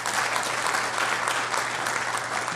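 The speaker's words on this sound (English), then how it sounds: "Please give him a big round of applause." A crowd applauds at a political gathering, dense, even clapping that fills the space, loud and sustained throughout with no break.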